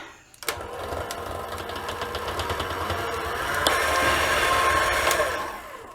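An electric mixer beats homemade brownie batter with cold milk added, its motor starting with a click and then whirring steadily and fairly loud, rising slightly in intensity toward the end.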